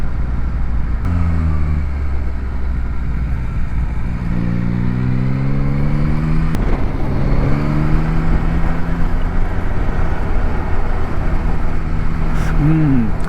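A Yamaha MT-09 SP motorcycle fitted with an Öhlins rear shock accelerates while riding, its engine note rising in repeated gear pulls over steady wind rumble, with a rider talking over it.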